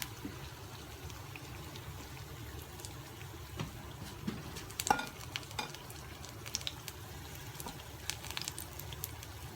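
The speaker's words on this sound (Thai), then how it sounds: "เราก็จะทอดสักประมาณหนึ่งนะคะ" Wasabi leaf tempura deep fries in hot oil, a faint, continuous bubbling crackle with occasional soft pops and stirring clicks.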